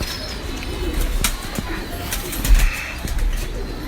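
Teddy breeder pigeons coo softly and repeatedly nearby, with a few rustles and flutters mixed in and faint background voices.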